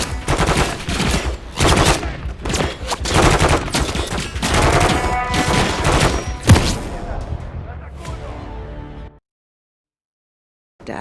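Enemy gunfire aimed at the player in a Call of Duty campaign mission hammers in loud, dense bursts of rapid shots that thin out and stop abruptly, followed by near silence.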